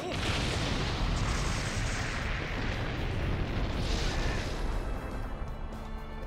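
Fire attack striking an opponent in Naruto Ultimate Ninja Storm 4, a loud sustained roaring blast with booming explosive rumble that continues unbroken for several seconds before easing slightly.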